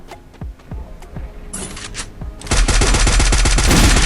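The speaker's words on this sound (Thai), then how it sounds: "AK ยิงโคตรแรงบอกเลยทุกคน" Rapid AK rifle gunfire in the mobile battle game Free Fire: a few scattered single shots early on, then a loud, sustained automatic burst that runs to the end without let-up.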